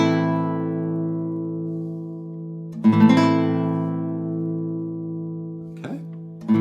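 A minor chord on guitar, plucked and left to ring out and fade slowly, then struck again twice with softer attacks near the end; close, clean and alone.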